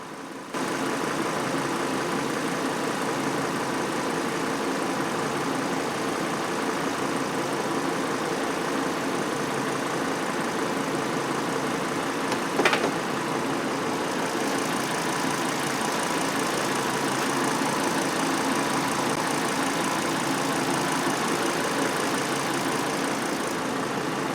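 A Volvo S60 T5 engine idles steadily for the whole stretch while its air conditioning is recharged with refrigerant, a close, even hum with one brief click partway through and no talking.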